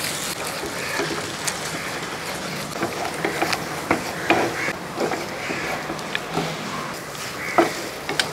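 Beaten eggs sizzle and crackle in a hot oiled pan as they are stirred and scrambled, a soft continuous frying hiss broken by light scraping taps of a utensil, with no talking.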